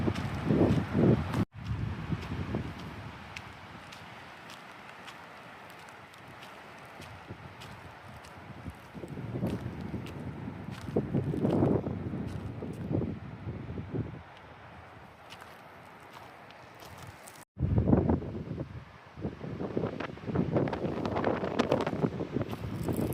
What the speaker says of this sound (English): this wind reminds me that a Bluetooth mic would be way better for filming on days like this